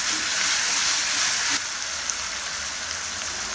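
Ginger garlic paste frying in a pan for coconut milk ghee rice, a steady close hiss and sizzle that drops slightly in level partway through, with no talking.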